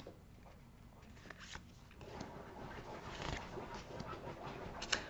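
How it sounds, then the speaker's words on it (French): A dog digs and scratches inside its basket, making faint, irregular scraping and rustling bursts that grow busier and denser in the second half. "J'en ai un qui est en train d'essayer de creuser un trou dans son panier"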